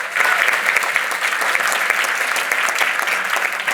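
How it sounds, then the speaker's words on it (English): A large audience applauds steadily and loudly at a community trust event, the dense clapping sustained evenly for several seconds with no voices over it. "let's give her a big round of applause for this"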